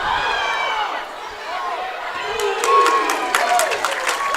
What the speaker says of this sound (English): Now the crowd gets loud, Mike.